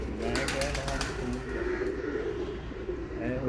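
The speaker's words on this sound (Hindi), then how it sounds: "मेन ब्रीडर कबूतरों का।" Breeder pigeons belonging to a Kasur pigeon keeper coo in a steady, close, overlapping murmur, with someone talking over the birds throughout.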